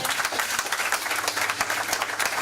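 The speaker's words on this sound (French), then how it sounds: "Est-ce qu'on peut acclamer le Seigneur?" A church congregation applauds in a steady burst of dense clapping that fills the brief moment.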